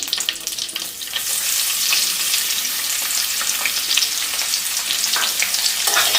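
Crushed onions of two kinds and curry leaves fry in hot coconut oil over a full flame for a Kerala yam dish, giving a loud, steady, dense sizzle with occasional stirring throughout.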